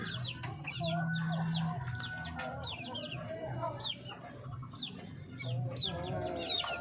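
Darag chickens on a farm, a rooster among them, cluck and call continuously with overlapping chirps and a low crow nearby, moderately loud.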